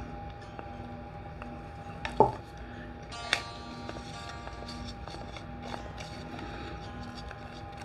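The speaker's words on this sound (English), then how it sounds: "You want to scrape into the sidewalls of your cup to make sure that mica is mixed up." A spoon stirs interference mica powder in a cup while mixing resin for an opal-style rolling tray. A low, steady scraping churn runs against the cup walls, broken by a couple of sharp clicks and knocks. The sound is close and continuous.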